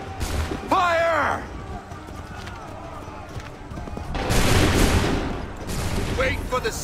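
A volley of musket fire on command in the video game Assassin's Creed 3, a burst of crackling shots that swells and lingers amid shouting voices and battlefield noise.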